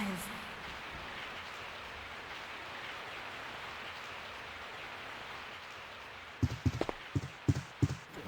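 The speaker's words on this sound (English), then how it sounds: "I woke up to the sound of falling rain" Steady rain falls at night in the Resident Evil 3: Nemesis game, a constant soft hiss that fades slightly before a few sharp thuds and clatters break through near the end.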